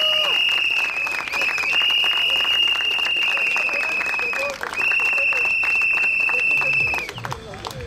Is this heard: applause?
yes